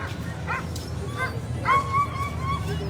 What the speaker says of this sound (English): Let's look at these lead dogs here.